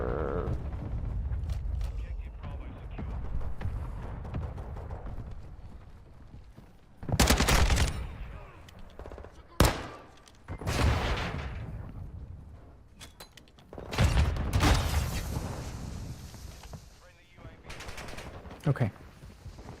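Automatic weapon gunfire in Armored Core VI or Modern Warfare II comes in several loud, sharp bursts separated by quieter stretches of game noise, with talking in between.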